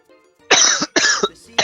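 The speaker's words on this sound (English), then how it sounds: "I'm sorry for the coughing, guys." A streamer coughs loudly and close into a microphone, three harsh bursts in quick succession with brief gaps, no speech around them.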